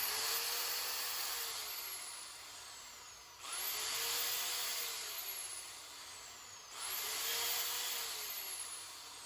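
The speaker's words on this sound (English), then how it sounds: "we're just going to run a little sanding bit around the inside of them real quick" A small sanding bit whirs inside golf club ferrules in three steady, fairly loud bursts of high-pitched grinding, each with a short dip between passes and no talking.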